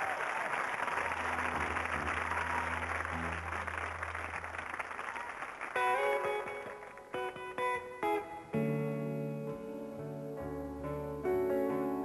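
TV studio audience applause for two musicians on Taratata in 1996, a broad wash of clapping that fades as band instruments and music take over partway through.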